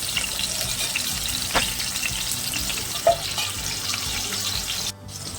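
Bitter gourd (kakarakaya) frying on low heat in a pan gives a steady close sizzle throughout, with a soft clink or two and no talking.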